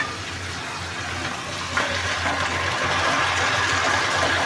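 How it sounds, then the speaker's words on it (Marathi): Water poured from a glass into a hot pan of softened onions while making upma gives a steady broadband gush that grows louder partway through and keeps running to the end. "एक ग्लास असं पाणी घातलं आहे मी"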